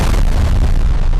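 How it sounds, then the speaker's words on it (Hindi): A meteor strikes the Earth in a huge explosion, heard as a loud, sustained low rumbling boom that fills the whole moment without any break. "उल्का पृथ्वी से टकराती है।"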